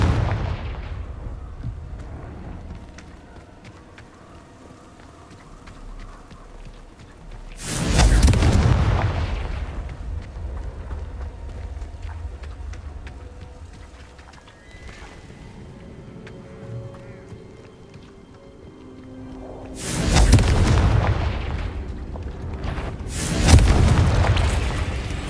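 Confringo spell blasts in the Hogwarts Legacy video game go off as three loud booming explosions spread apart, each with a crackling roar, over low rumbling game ambience.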